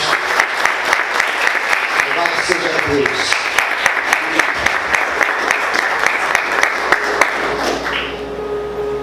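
A church congregation applauds loudly and steadily in praise of Jesus, dense sustained clapping filling the whole stretch while a voice speaks over it.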